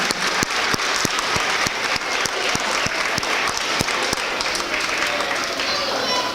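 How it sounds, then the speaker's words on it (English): A crowd claps steadily and loudly throughout, a dense wash of applause with a few sharper individual claps standing out. "give these kiddos a big round of applause"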